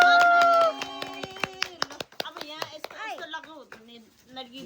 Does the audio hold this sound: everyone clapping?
yes